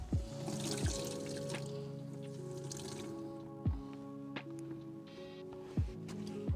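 Fresh water is squeezed out of an ultra-absorbent sponge aboard a catamaran in Mauritius. Continuous trickling and pouring is broken by periodic splashes, over a steady low hum.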